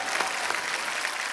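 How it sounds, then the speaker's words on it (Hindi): Studio audience applause on a comedy talk show, a steady dense wash of clapping at moderate level throughout the short stretch, with no talk over it. "उसके लिए भी तालियां।"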